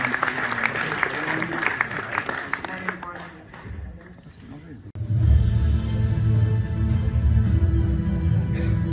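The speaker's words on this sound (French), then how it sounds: "Applaudissements s'il vous plaît pour nos deux championnes" Audience applause for two women champions at the 2024 Coupe de France FDJ cycling awards evening, a loud, steady crowd clapping that swells to a fuller roar halfway through with other sound mixed in.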